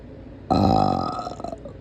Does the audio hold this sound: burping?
yes